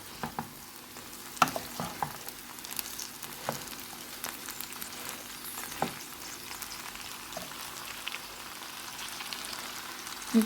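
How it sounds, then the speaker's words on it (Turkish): Boiled water is poured into a pot of chickpea rice pilaf, giving a steady hiss and sizzle with faint bubbling and a few clinks of a utensil, heard up close with no talking. "Kaynamış suyumu da ilave ediyorum."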